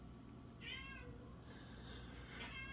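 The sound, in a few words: cat meowing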